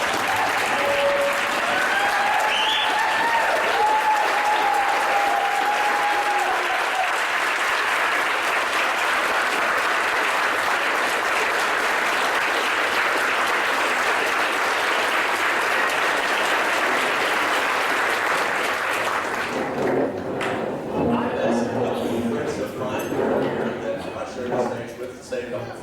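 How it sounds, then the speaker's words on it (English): Sustained audience applause at a university theatre reunion, steady dense clapping for about twenty seconds with faint voices beneath, thinning into scattered claps and murmuring crowd noise near the end. "Let's all give Doc Stewart a round of applause to show her just how much she means to all."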